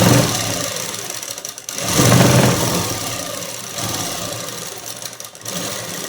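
A sewing machine stitching a jeans collar runs in a steady mechanical whir, pausing briefly and restarting a few times, close and moderately loud with no voices.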